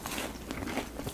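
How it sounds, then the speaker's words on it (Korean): A long cheese stick crunches as it is bitten, with a brief burst of close crackling crunches and bites over about a second. "롱 치즈 스틱도 한번 먹어보겠습니다."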